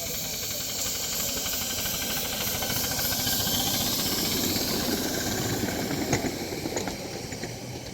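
The Fitchburg Northern, a small live steam locomotive built by Tom Rhodes, hisses steam in a steady, loud, continuous broadband rush over a faint low rumble at an outdoor live steamers meet.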